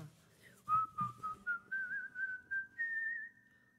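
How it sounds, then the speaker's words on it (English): Human whistling with a slight echo: a bright, lilting tune of about a dozen connected notes, fairly loud and close, heard on its own. "That whistling with a little echo there."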